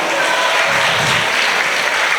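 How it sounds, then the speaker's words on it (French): Loud, dense applause from a crowd at a school competition final in Senegal, a continuous roar of clapping hands filling the whole moment without speech. "Des applaudissements pour ces deux grands."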